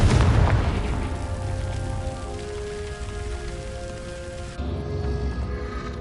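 Confringo fire spell exploding in the video game Hogwarts Legacy, a loud opening boom that fades into a crackling, rain-like fiery hiss, with a second softer thump near the end.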